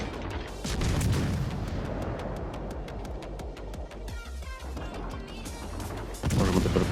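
Warship guns fire in the naval video game World of Warships Legends as a series of booming shots and rapid rhythmic salvos, moderately loud, with a brief quieter stretch between volleys.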